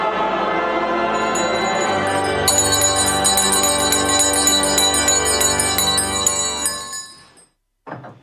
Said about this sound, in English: your favorite YouTuber doesn't have church bells?